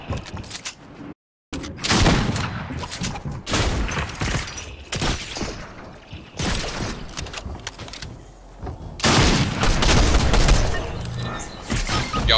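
Loud, dense bursts of gunfire in a first-person shooter game, with a sharp sniper rifle crack among sustained volleys and impacts, rising and falling over several seconds, then intensifying near the end.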